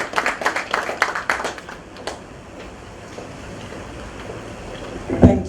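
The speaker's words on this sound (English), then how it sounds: "Please give her a round of applause." A small audience at a chamber of commerce mentorship presentation gives brief, scattered applause with distinct individual claps that quickly thin out, followed by quiet room tone and a soft bump at the end.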